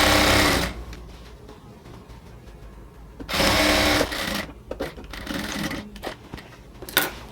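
Sewing machine stitching along the elastic at the waistband of a pair of ladies' pants, running in a long burst, then several shorter bursts separated by quiet pauses and small handling clicks.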